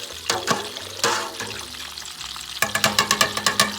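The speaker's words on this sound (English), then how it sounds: "we are going to stir that around to get that good gravy going" Roast seasoning mix being stirred into water to make gravy, loud swishing and sloshing strokes, with a quicker run of rhythmic stirring splashes near the end, close and without talk.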